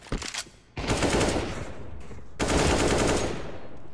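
An MP9 submachine gun fires in a video game, a short burst followed by two longer sustained bursts of rapid automatic fire, close and loud.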